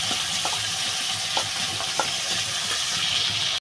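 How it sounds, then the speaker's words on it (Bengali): Fried potatoes and whole green tomatoes are stirred and fried in a pan for a curry, giving a loud, dense sizzle with repeated spatula scrapes and taps throughout. "এবার এটা ভালো করে কষাবো আগে।"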